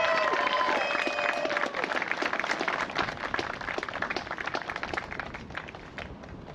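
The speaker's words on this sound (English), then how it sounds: "Please give a round of applause" Crowd applause at a women's college softball championship bronze medal game, sustained clapping and some cheering that starts loud with a few whistle-like tones, then settles into steady, slightly thinner clapping.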